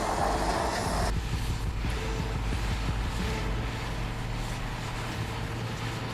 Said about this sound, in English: The machine in action here is a Diamond Z tub grinder, a massive industrial grinder built for high-volume wood and green waste processing